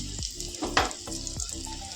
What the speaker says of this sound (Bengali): আলু ভাজাটা গরম গরম আছে এটা একটুখানি পূজার জন্য ভেজে নিই